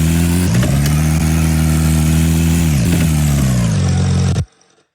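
Car engine sound effect playing back loud and steady, a deep rumbling drone that dips and rises slightly in pitch before cutting off abruptly near the end, no voices.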